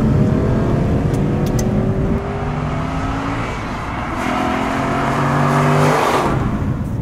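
An Aston Martin V8 Vantage N430 engine revs hard and accelerates, its rising harmonic tones climbing steadily through the gears, loud and continuous from start to finish with no talking.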